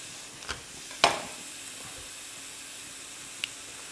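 Onions and garlic frying in a pan give off a soft steady sizzle, broken by a few sharp clicks and taps of a utensil against the pan.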